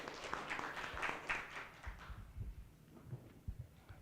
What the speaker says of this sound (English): clap for him as well as he comes